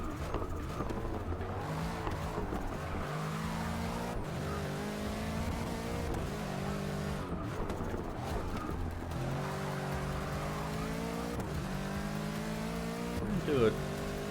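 Race cars in the Forza Motorsport 6 video game rev and shift through the gears, their engines whining up and down at a steady volume while a player talks over the racing.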